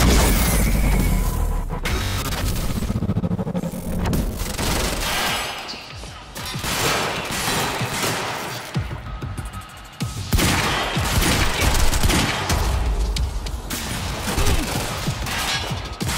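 Gunfire in the Quantum Break video game comes as loud, dense bursts of rapid automatic shots and crashing impacts, rising and falling across the stretch with a brief quieter gap in the middle.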